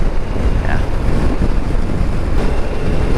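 A 2024 Harley-Davidson Pan America 1250 Special motorcycle on the move, its engine drone buried under heavy, constant wind rush against the microphone, loud and unbroken.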